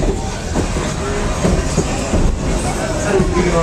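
A fast passenger train on a Pennsylvania line through Amish country rushes past with a loud, continuous roar and faint rhythmic clatter of wheels, close by and steady for the whole stretch.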